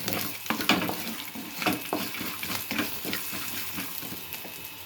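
Ingredients for lemon pulihora, seasoned with turmeric and salt, fry in a pan with a crackling sizzle. Stirring strokes scrape and knock the pan at an uneven, steady rhythm.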